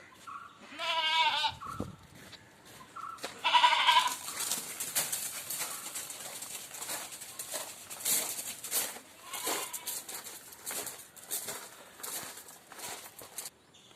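Dairy goats at a livestock sale bleat loudly and close by early on, followed by shuffling hooves, footsteps and farmyard movement with scattered faint calls.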